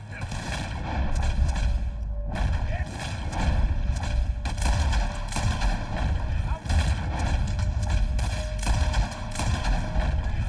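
Video game scene of a horseback escape: hooves pounding in a steady gallop while gunshots crack out repeatedly and loudly, with wind rushing past throughout and no clear voices over the din.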